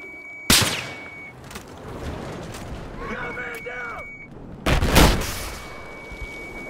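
Sniper fire in the video game Battlefield 4, two sharp loud cracks several seconds apart, with a voice talking between them over low battlefield rumble.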